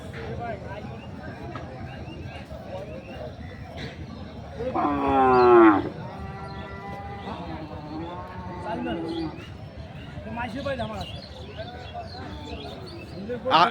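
Cattle at the Ranibandar livestock market in Dinajpur, where local-breed dairy cows and calves are sold: one loud, strained moo-like bellow rises near the middle, over a steady murmur of crowd talk and market bustle.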